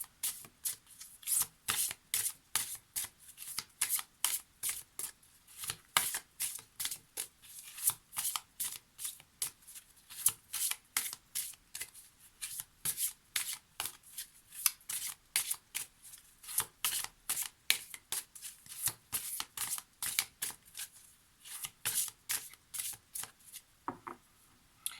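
Twin flames oracle cards being shuffled by hand, a steady run of crisp riffling flutters repeated over and over at close range, fairly quiet.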